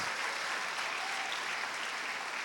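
A church congregation at a Sunday service claps in loud, steady applause that fills the room from start to finish.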